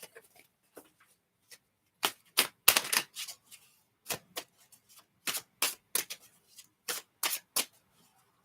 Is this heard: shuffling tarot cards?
yes